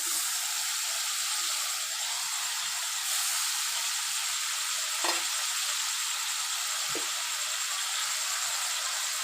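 Chicken stock, the water the chicken was boiled in, poured into a sizzling pan of chicken mash, giving a steady hissing fry with a few sharper spatters and stirring clinks; no talk.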